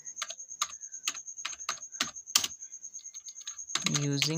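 Quick irregular clicks of someone typing Python code on a computer keyboard, coming in close, crisp bursts with short pauses between. A voice joins near the end.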